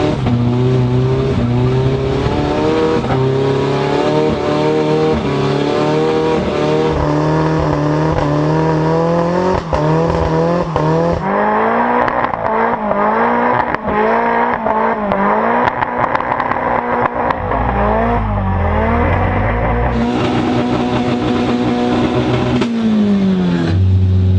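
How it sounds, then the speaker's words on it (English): Heavily modified Nissan 240SX doing a burnout: a loud, sustained engine roar with repeated revving climbs and drops, tire squeal blending in, continuous for over twenty seconds with no talk. "burn out to 240."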